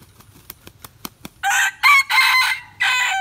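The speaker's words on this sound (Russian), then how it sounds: "Ух ты, какой Петька петух." A rooster crows loudly and close by, a long drawn-out call in several bursts, preceded by a handful of soft clucks or taps.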